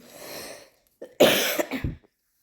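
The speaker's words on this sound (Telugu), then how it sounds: "జలుబు అయిందండి జలుబు దగ్గు" A few close coughs from a person with a cold, a softer one first and then a harsh burst of two or three in quick succession, with no talking.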